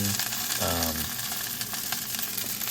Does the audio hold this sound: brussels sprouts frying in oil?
yes